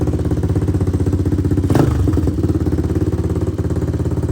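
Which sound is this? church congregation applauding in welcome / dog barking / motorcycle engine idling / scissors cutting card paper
motorcycle engine idling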